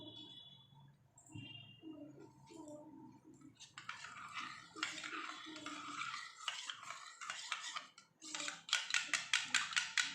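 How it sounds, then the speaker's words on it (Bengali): A spoon stirs milk into sour yogurt in a bowl, faint scraping giving way to quicker, rhythmic clinks against the bowl toward the end. "টক দইয়ের মধ্যে আমি দুধ মিশিয়ে নেব।"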